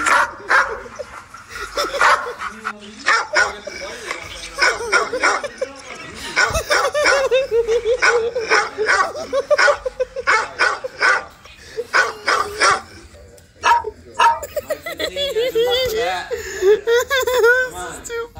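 Dogs bark repeatedly in a video game, with bursts of yips and barks scattered throughout, mixed with people talking and laughing over them.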